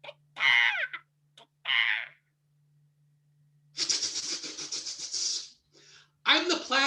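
Performer at a family improv show vocally imitating a crow circling a pumpkin patch: several harsh, raspy caws in short bursts, close and loud, separated by silent pauses, with a longer drawn-out caw in the middle.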